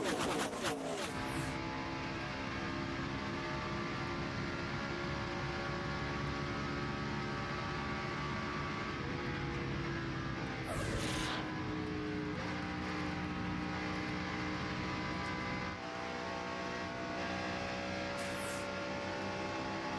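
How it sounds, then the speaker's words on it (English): Busch Series stock cars at the 2007 Stater Brothers 300 roar past at full throttle, a continuous loud engine drone with several sharper passes sweeping by near the track, no talk. "All right, the cars come roaring past. Let's go full throttle and hear these Busch Series cars at full speed."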